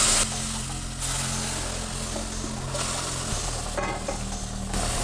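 A prasadam mixture is stirred in a pan on a low flame as boiling water is poured in gradually, giving a steady close sizzle and scraping over a constant low hum.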